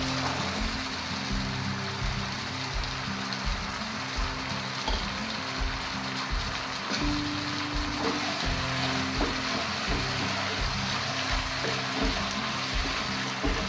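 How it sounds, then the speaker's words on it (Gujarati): Green peas go into a sizzling tomato masala in a pan for a methi and pea curry, giving a steady, close frying hiss with soft rhythmic stirring scrapes underneath. "ટામેટો ચડી ગયા તો હવે વટાણા નાખી દઈએ."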